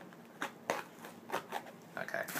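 Scissors snip and slice through tape on a package during an unboxing, giving a handful of short, quiet cuts and rustles spaced irregularly over a couple of seconds, close by.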